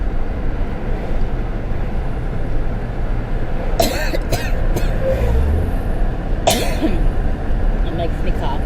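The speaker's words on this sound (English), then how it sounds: "It makes me cough." A couple of short throat-clearing coughs break through steady traffic rumble, with a person speaking nearby.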